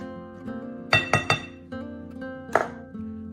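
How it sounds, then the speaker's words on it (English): A whisk stirs a sugar mixture in a bowl, giving a few sharp clinks in quick bursts against the side with brief pauses between, close and fairly clear. "we're gonna mix it all together with a whisk"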